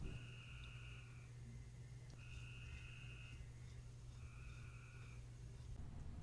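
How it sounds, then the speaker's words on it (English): Frogs croak outdoors in repeated trilling bursts, about three roughly one-second calls spaced evenly, faint against a steady low background hum with no voices. "As you can hear, the frogs are still quite active this time of year."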